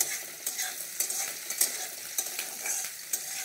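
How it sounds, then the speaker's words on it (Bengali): Four chopped green chillies fry with capsicum and carrot in a pan for vegetable cashew fried rice, a steady high sizzle broken by a quick run of spatula scrapes and taps, close and fairly quiet with no talk. "দিয়ে দিচ্ছি 4টে কাঁচা লঙ্কা কুচি করে নিয়েছি, এগুলো এর সঙ্গে একসঙ্গে ভেজে নেব"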